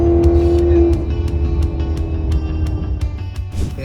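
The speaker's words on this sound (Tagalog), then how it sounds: "Pinahiram sa atin tong pickup truck." A big Ford F250 pickup truck drives along with a steady, loud low engine rumble and road noise, plus a brief tonal whine at the start and faint ticking over the top.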